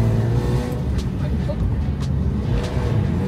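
A Lexus IS200 car is being driven, giving a steady low engine drone and road rumble from inside the cabin, with brief faint clicks and thumps and people talking over it.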